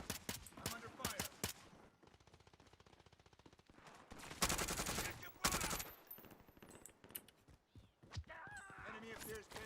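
Video game gunfire: rapid automatic bursts of shots, close and sharp, with loud heavy volleys in the middle, mixed with game voices and radio chatter.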